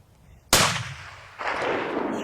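A rifle shot on an elk hunt, one sharp, loud crack that fades into a rolling echo, then a second burst of noise about a second later, heard outdoors with no talking.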